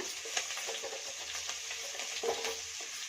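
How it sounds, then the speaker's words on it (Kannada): Chopped green chillies sizzle and fry steadily in a hot pan, a close, continuous crackle with small spattering pops and occasional stirring scrapes, with no voices. "ಚೆನ್ನಾಗಿ ಸ್ವಲ್ಪ ಫ್ರೈ ಮಾಡ್ಕೊಳ್ಳೋಣ"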